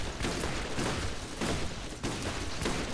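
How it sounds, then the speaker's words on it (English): Dense, continuous gunfire and blasts from a Borderlands co-op firefight, a loud unbroken wash of shots with heavier bursts roughly every half second to second and no clear gaps. "Everything is exploding."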